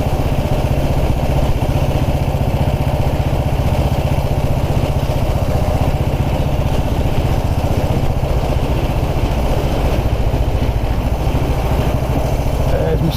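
A 1929 'Black' Ariel motorcycle engine running while being ridden along lanes, a loud steady close thumping drone with wind buffeting, constant throughout, under faint talking.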